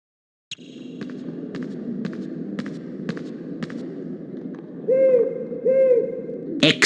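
An eagle owl hoots in the Harry Potter and the Sorcerer's Stone PS1 game, giving two clear hoots near the end over a low steady hum, after a run of regularly spaced sharp clicks.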